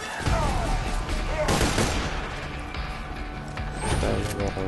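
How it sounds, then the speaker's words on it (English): Submachine gun fire in Borderlands 2, dense rapid bursts of shots crackling loudly and continuously across the whole stretch, with faint background game noise. "Submachine gun."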